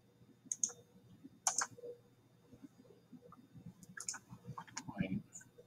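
Sharp mouse clicks while drawing conic arcs in Onshape CAD, a few isolated close clicks spaced a second or more apart over faint background rustle.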